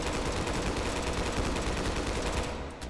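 An M2 firing full-auto in the VR game Hot Dogs, Horseshoes & Hand Grenades: a loud, unbroken mechanical rattle of rapid shots that holds steady for nearly three seconds before tailing off.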